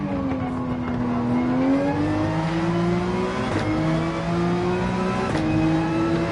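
A race car engine in Gran Turismo 7 holds a steady high whine, rising and dipping through several gear shifts as the car slides through a drift, loud and close.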